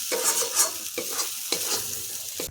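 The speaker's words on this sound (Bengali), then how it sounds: "মশলাটা খুব ভালোভাবে নেড়ে কষাতে হবে, কারণ কাজু দেওয়া আছে, তলায় ধরে যাওয়ার সম্ভাবনা থাকে।" Masala with cashews being stirred and fried in a pan: a run of close, scraping stirs over a crackling sizzle, repeated every second or so, with no talking.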